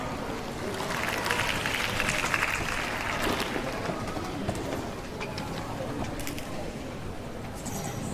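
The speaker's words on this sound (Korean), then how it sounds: "박수 부탁드립니다." An audience applauds at a Korean-language oratory contest for elementary students, a steady broadband clatter of clapping that fills the whole stretch at moderate loudness, with a faint voice or two underneath.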